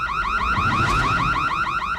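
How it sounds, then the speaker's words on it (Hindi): A loud burglar alarm wails nonstop, its siren tone rising and falling in quick, regular cycles. "ये तो चोर अलार्म है।"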